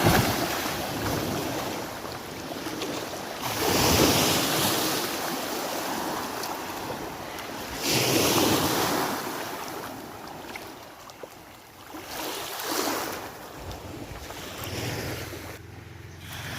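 Broad surf washes in and out in slow surges on Pulau Panjang beach, West Pasaman, West Sumatra, with wind rushing across the microphone throughout.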